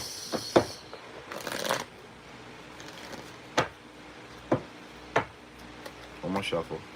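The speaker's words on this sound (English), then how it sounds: "One more shuffle" A deck of tarot cards being shuffled, with a riffling burst early on followed by several sharp, separate taps and slaps of cards, fairly close and moderately quiet, with brief talk.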